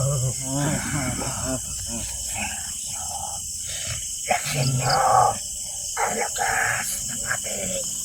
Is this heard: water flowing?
no